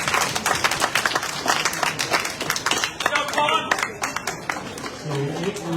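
Audience at a scholarship fundraiser awards dinner claps and applauds, a dense wash of many hands that stays loud, then thins out toward the end, with voices mixed in.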